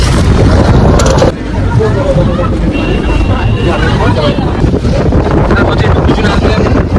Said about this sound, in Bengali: বোট চলছে